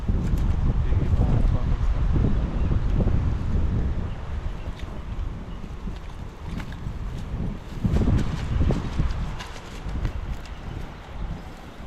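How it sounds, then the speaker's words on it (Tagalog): Wind gusts buffet the microphone beside a river in a steady low rumble, swelling and easing, with faint background sounds mixed in. "Sarap ng hangin."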